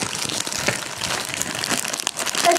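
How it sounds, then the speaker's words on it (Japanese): Scissors cutting paper stickers for a toy doll face, a string of light crinkly snips and paper rustles close by, irregular and soft, with no talking. "ハサミで切れるか。"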